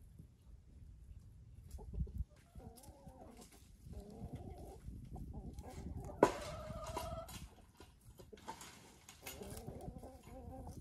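Chickens clucking quietly and intermittently in an outdoor pheasant run with alfalfa growing, a few soft calls spaced apart among low background noise.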